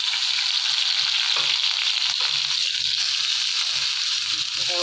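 Shrimp with eggplant and potato sizzle in hot oil in a wok-style pan, a steady close frying hiss with occasional stirring scrapes and no speech.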